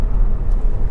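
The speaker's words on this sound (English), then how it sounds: "Coming to the brakes, just make sure no one's behind me. Just give those a good old stamp." Honda Civic 2.2 i-CTDi braking hard, a loud low road-and-engine rumble with a brief tyre hiss, close and continuous for about a second with no talk.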